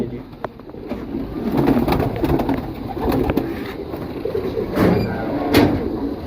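Pigeons in a pigeon loft coo in a continuous low murmur, with knocks, shuffling and other loft noise mixed through it.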